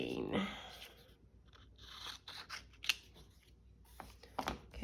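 Scissors snip close by as paper pieces are cut out for a junk journal, giving short crisp cuts in an uneven rhythm while a person talks quietly over them.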